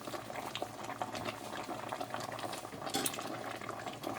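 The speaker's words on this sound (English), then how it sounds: "And we're going to give it a little stir." A shrimp boil pot bubbles at a rolling boil with dense, continuous liquid churning and a few splashy stirring movements, close and fairly quiet.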